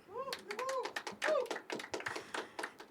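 Scattered applause from a small audience at a poetry open mic, with a few sharp individual claps close by and a thin patter of hands that comes and goes over about three seconds.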